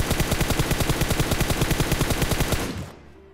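Rapid, sustained automatic gunfire in the video game PUBG Mobile, in a steady rhythm, loud and close, cutting off abruptly near the end.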